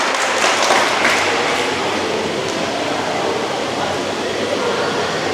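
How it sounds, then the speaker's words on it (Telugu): Loud, sustained applause from a crowd at a Krishna Janmashtami celebration, a steady wash of clapping that holds at full volume throughout with no let-up. "గట్టిగా చప్పట్లు."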